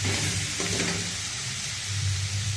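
Fenugreek seeds, garlic and curry leaves crackle in hot tempering oil, giving a steady close sizzle and hiss over a low background hum, with no voices.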